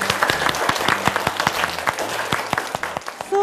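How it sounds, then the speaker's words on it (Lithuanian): A group of children clapping at a small gathering, with distinct hand claps ringing out unevenly, loud and close, and a brief tone near the end. "Paplokim, vaikai, paplokim."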